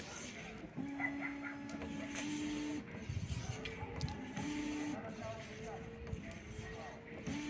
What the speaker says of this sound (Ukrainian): Ну і перевіряємо, як у нас працює задня щітка.